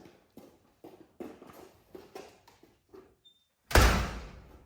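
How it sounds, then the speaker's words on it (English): A door swinging shut in a workshop, a single loud, close slam after a series of soft knocks and footstep-like taps. "why don't you close that door because the sun's coming in"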